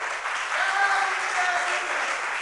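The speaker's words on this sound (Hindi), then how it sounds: "ये ताली क्यों बजी पंडित साहब?" An audience claps during a spiritual discourse by Acharya Vishuddhsagar; brief, faint, even applause that fills the whole moment without any standout claps.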